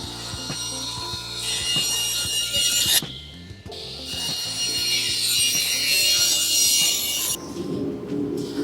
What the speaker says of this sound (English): Now onto the table saw.